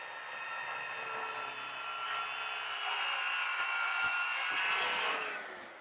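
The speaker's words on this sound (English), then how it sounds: "So there you go, a nice clean cut to a piece of MDF, exactly where I wanted it" A circular saw rips through a piece of MDF in one continuous high whine, close and loud, before spinning down at the end, with no talk.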